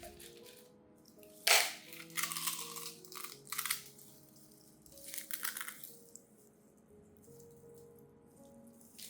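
Dried eggshells crushed by hand, giving a few crisp crackling bursts and rustling crunches spread across the clip, close and fairly quiet, with no talking.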